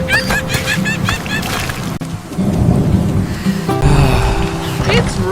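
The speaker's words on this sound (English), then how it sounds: "It's raining so heavily." Heavy rain in a cartoon setting, a steady loud downpour with rumbling thunder, under chirpy high-pitched character voices and sound effects.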